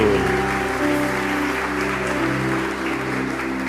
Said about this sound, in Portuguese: Vamos dar uma linda salva de palmas para o Senhor, porque Ele é digno.